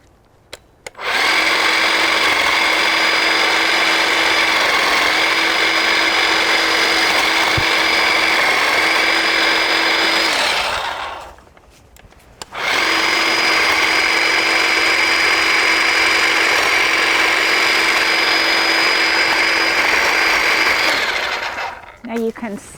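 A battery-operated hedge trimmer cuts through dry, woody hedge branches, its loud steady buzzing motor running in two long bursts separated by a brief pause, close up.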